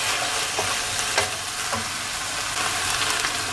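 Instant noodles with tofu stir-fried until dry in a hot pan, a steady close sizzle with soft scraping stirs throughout, no voices.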